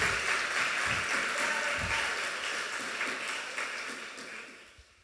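A church congregation claps and cheers in a steady, dense wash of applause that holds for several seconds, then tapers off toward the end.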